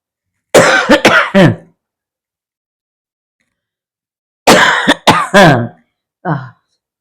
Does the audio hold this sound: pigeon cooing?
no